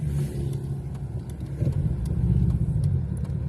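A ZAZ-965 Zaporozhets towing a trailer drives on a Carpathian mountain road near the Bukovets pass, its small engine a steady low rumble that swells slightly as it pulls ahead.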